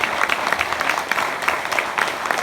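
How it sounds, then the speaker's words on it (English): Conference audience applauding sponsors, steady dense clapping from a sizeable crowd in a hall, loud and sustained throughout with no talk over it. "Let's give a round of applause for them,"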